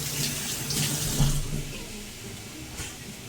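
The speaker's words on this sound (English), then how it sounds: "Hands, quick rinse." Water runs from a kitchen tap as hands get a quick rinse, a steady close splashing hiss that peaks briefly before easing off toward the end.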